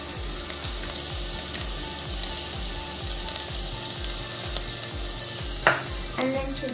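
Onions, garlic and ginger sizzle steadily in a pan with dry spices for chana masala, with a rhythmic scraping stir, close and continuous, plus a light clink near the end.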